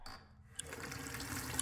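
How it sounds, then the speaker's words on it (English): A bathroom sink faucet clicks on after a brief silence and water runs steadily into the basin, close and fairly quiet. "I made it to the washroom and clicked on the faucet."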